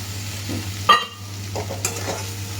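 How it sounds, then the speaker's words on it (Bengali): A spoon scrapes and stirs fried potatoes through a thick spice paste in a pan, with a soft sizzle and a few clinks over a steady low hum. "এই মশলার সঙ্গে দিয়ে আর একটু ভালো করে কষিয়ে"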